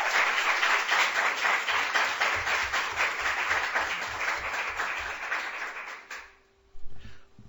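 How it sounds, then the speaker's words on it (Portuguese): Dense applause fills a municipal council chamber in session for around six seconds, then stops abruptly, leaving quiet room tone and a short low rumble. "uma salva de palmas para Patrícia Mello e para todas vocês que participaram desse"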